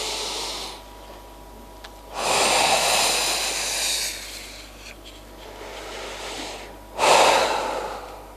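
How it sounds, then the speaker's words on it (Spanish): Slow, deep breaths, with long airy inhalations and exhalations repeating over several seconds, sound close and soft during a relaxation breathing exercise at an emotional freedom seminar, with no talking. "Volvemos a hacer otra respiración."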